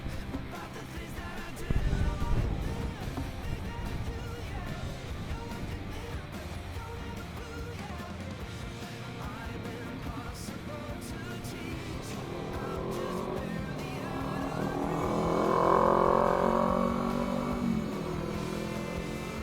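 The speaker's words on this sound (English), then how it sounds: "it is so much fun to just open her up full throttle, as you can see here." A 1/10 scale radio control Bison car runs at full throttle, its small electric motor whining and buzzing with rising and falling pitch as it accelerates, swelling louder as it nears, with gravelly tire noise and no speech.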